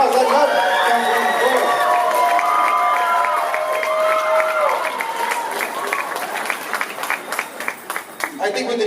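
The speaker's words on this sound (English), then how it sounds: "Let's give McCoy a round of applause" An audience at the 2017 City of Compton inauguration ceremony breaks into applause and cheering. A voice over a crowd gives way to steady clapping that thins out toward the end.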